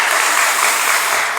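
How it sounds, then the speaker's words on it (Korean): A church congregation applauds during a Sunday worship service, a loud, dense wash of clapping that holds steady from start to finish with no voices over it. "우리 한번 격려와 축하의 박수 한번 드리겠습니다."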